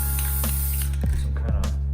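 A spray paint can hisses as paint is sprayed onto Christmas ornaments for hydro dipping, a short burst of airy hiss over a steady low hum, followed by a few faint clicks.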